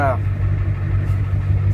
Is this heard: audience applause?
no